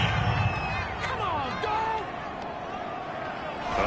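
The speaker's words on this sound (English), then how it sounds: "Well, this crowd does not like that call." Stadium crowd noise in a football video game, a steady roar and murmur of disapproval after a penalty call, with a commentator's voice and whistle-like tones riding over the broad din.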